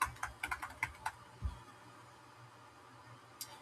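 Computer keyboard typing near a glass-engraving laser setup: a quick run of light, close keystrokes, then a dull thump and a lone later click against a quiet background.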